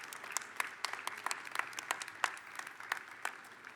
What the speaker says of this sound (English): extend a round of applause to those whose support and assistance have been so important for your college experience